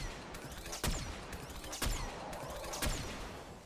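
Enemy fire in Destiny 2 during a Master Lost Sector on a Hunter: three loud sharp blasts about a second apart over a dense rumbling game background, with no voices.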